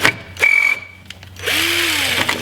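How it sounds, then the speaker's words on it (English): A power drill bores holes in the upper quarter panel of a Jeep Cherokee XJ: a short whine, a pause, then a longer rising drill run with metal-cutting hiss, close and loud. "drill a hole over here and work my way back"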